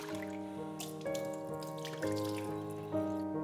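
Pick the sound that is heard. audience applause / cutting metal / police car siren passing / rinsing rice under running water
rinsing rice under running water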